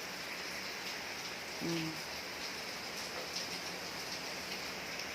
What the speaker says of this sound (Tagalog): Yan ang ulan dito sa amin ngayon.